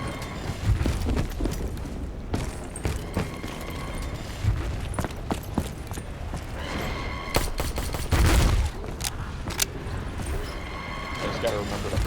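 Rapid bursts of gunfire from Call of Duty Zombies on the Origins map, volleys of shots clattering across the scene with a heavier blast near the middle, all under ongoing game sounds.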